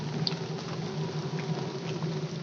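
Steady patter of rain with scattered drips and small pops, a continuous soft wash of noise with no voices.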